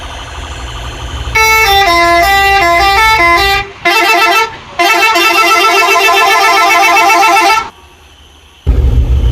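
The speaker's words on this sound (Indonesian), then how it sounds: "Oke, yang pertama ada suara klakson setir." A bus steering-wheel horn in the Bus Simulator Indonesia game plays a loud, close musical melody of rising and falling tones, pausing briefly twice before stopping, with engine rumble beneath.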